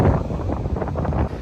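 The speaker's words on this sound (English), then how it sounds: "It's muy windy here on the beach this morning." Strong wind buffets the microphone on a beach in the morning, a steady low roar with gusty rustling throughout and no voices.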